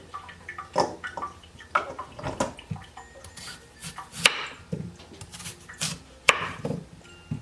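A knife chops carrots into slanted pieces on a wooden board, with sharp, irregular close thuds and a few scraping knocks between cuts, and no talking.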